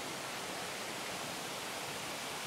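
Waterfall at the Palenque ruins in Chiapas, Mexico, a dense, unbroken roar of falling water heard up close, steady and loud with no voices over it.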